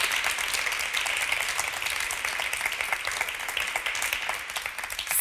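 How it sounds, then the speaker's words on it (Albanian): A studio audience at a Dancing with the Stars show applauds in a dense, steady burst of clapping that lasts several seconds, with no speech. "Dua një duartrokitje për gjithë yjet të Dancing with the Stars"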